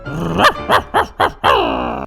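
Dog in the game Minecraft barking and growling, five loud close barks in quick succession, the last drawn out into a longer growling whine, no speech.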